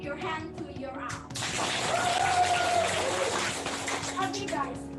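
Hands clap together in a broad, steady wash of audience applause at a school English public speaking competition, starting after a brief pause and continuing loudly for several seconds with scattered voices and a whistle-like tone mixed in.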